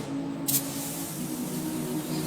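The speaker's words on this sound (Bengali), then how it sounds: "সবগুলো স্প্রে দিয়ে রং করা হচ্ছে একটা মেশিন স্প্রে দিয়ে" A steady, close hiss of a machine sprayer painting a military tank under a low mechanical hum, with a brief louder burst near the start.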